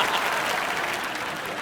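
A television comedy studio audience claps for film director Ram Gopal Varma, a short burst of dense, steady applause from a crowd, fairly loud and close.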